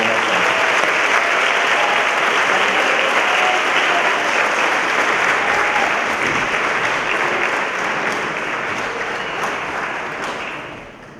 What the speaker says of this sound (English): We have a round of applause for all.